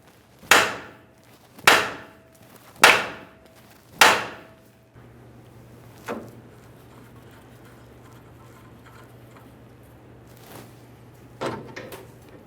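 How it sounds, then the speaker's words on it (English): A hammer strikes the steering knuckle of a 1994-2001 Dodge Ram 1500 four times in an even rhythm, loud sharp metallic blows, followed by a few fainter taps over a low background hum. "Now I'm going to tap on the steering knuckle along here."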